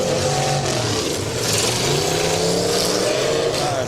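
Several race cars in a large-car heat at a county demolition derby, engines revving and roaring continuously, loud and close, with a faint announcer voice underneath.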